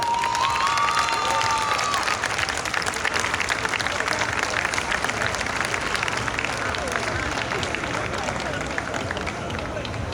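Sustained, loud applause from a live audience greeting a singer at an evening music-and-fashion show in Sassari, dense clapping and crowd noise filling the whole stretch with a brief tonal whistle near the start.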